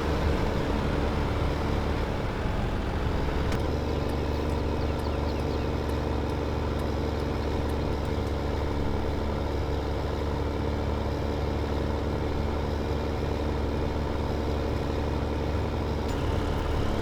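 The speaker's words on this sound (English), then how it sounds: "2 tractors passing here isn't usually good" Tractors driving across a farm in Farming Simulator 15 multiplayer, a steady loud engine drone with low rumble holding constant throughout, no voices present.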